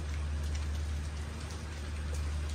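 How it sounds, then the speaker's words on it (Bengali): Heavy rain pouring down steadily, a dense even wash of drops on surfaces with a low rumbling undertone, continuous and unbroken, with no voices. "সারাদিনই ঝুম বৃষ্টি আর বৃষ্টি"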